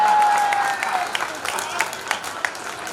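Steady applause from a Hindi comedy poetry audience, moderately loud and continuous, with a few sharper claps standing out against a faint tone.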